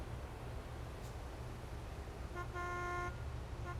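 A truck horn in American Truck Simulator sounds once briefly and faintly over a steady low engine and road drone, with no talking.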